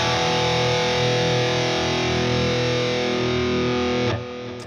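Sustained electric guitar chord through the Headrush Revalver plugin's air verb dock hall reverb preset, washed in heavy reverb and distortion, ringing steadily before cutting off abruptly near the end, leaving a lingering tail.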